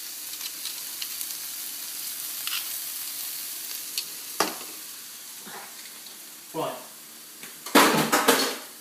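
Garlic hits a hot pan and sizzles, with a scrape of a utensil and a few clattering bursts of pan and stirring noise near the end, close up and fairly loud.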